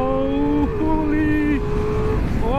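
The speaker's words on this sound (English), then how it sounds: "I love this V4 engine, the V4 platform." Ducati Multistrada V4 Rally motorcycle engine revving hard through gears, loud rising tones that drop at each shift and climb again, heard close with wind noise and a rider's excited voice over it.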